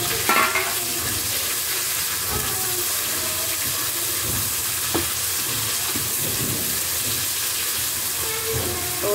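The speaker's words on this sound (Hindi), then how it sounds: "और अब मैं इसमें डालूंगी प्याज। प्याज को करूंगी हल्का ही फ्राई।" Onion, garlic and chilies frying in hot oil for a kadhi tempering, giving a steady, close sizzle with occasional stirring scrapes throughout, no talking.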